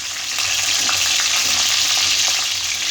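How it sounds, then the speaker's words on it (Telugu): Onions fry in hot oil for a curry, giving a loud, continuous sizzle with crackling and a few stirring scrapes close by. "ఆయిల్ అయిన తర్వాత కొంచెం వేడైన తర్వాత ఆనియన్స్ వేసుకుందాం."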